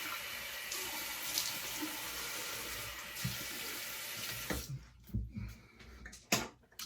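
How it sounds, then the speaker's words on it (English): Cold water from a running sink tap, splashed onto a face, a steady hiss for several seconds that cuts off, followed by a few separate close splashes and drips. "Then a cold water splash to close the pores here."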